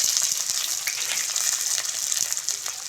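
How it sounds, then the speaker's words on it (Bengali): Chopped onion sizzling in hot white oil in a wok, a loud steady frying hiss with crackling spits throughout, close and continuous with no voices. "তেল গরম হয়ে গেছে। তেলের মধ্যে দিয়ে দিচ্ছি পেঁয়াজ কুচি।"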